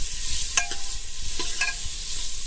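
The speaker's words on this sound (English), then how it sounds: "I will add pinch of asafoetida and chopped onions and cook it till the onion is golden brown in color" Chopped onions and a pinch of asafoetida fry in a pan with a steady sizzle, while a few sharp clinks of a spoon stirring against the pan sound close by.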